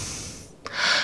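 A person pants with heavy, breathy exhalations after pole dancing in a hotel family suite, a broad airy rush that swells louder toward the end after a brief sharp intake of breath.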